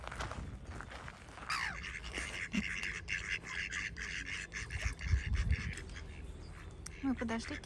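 Ducks quack in the park by the Chinese Palace at Oranienbaum, near Saint Petersburg. The scattered calls sit among steady outdoor noise and people talking.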